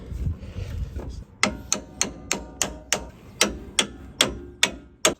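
Hammer strikes drive a lower strut mount bolt through a bushing on a Ram 1500 during a lift install, about a dozen sharp metallic blows in a steady rhythm, close and distinct over quiet background.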